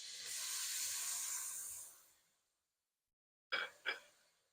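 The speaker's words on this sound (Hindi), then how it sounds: "साबुत ज़ीरा डाल रही हूँ मैं। हल्का सा फ्राई करेंगे बस।" Whole cumin seeds hiss and sizzle lightly in a pan, a soft, steady frying hiss that fades out, followed after a pause by two brief sharp spits.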